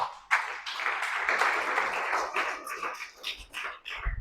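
A church congregation claps along during a sermon, giving a few seconds of steady, dense applause at close range that tapers slightly toward the end.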